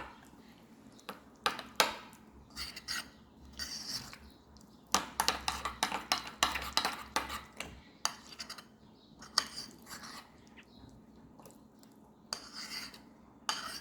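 Guacamole of mashed avocado with salt and pepper mixed in a bowl, with repeated clinking and scraping of a spoon against the bowl in irregular bursts, close and without talk.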